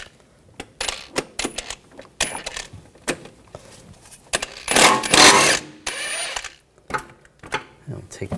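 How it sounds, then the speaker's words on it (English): Ratchet turning M10 triple square socket on CV axle bolts of a 2004-2009 Audi A4 Quattro, irregular rapid clicking bursts close by, with someone talking between them. "we're going to take these bolts out. You're going to use a M10 triple square socket."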